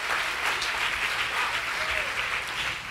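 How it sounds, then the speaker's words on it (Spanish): A church congregation applauds during a sermon, a soft, steady patter of clapping that carries on for the whole stretch at moderate distance, with no clear speech over it. "Si le va a dar el aplauso al Señor."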